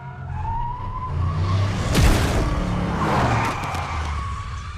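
A car in the Alan Wake video game speeds along a coastal road and skids, with a steady engine roar, a sharp sweeping tire squeal midway and a louder surge, all close and without speech.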